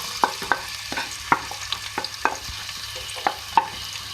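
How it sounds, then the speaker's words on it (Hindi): Two medium onions fry in oil for a capsicum and potato sabzi, a soft steady sizzle broken by frequent sharp taps and scrapes of a spoon stirring in the pan, close and without voices. "सबसे पहले मैं ऑयल में 2 मीडियम साइज़ के प्याज ऐड करूँगी"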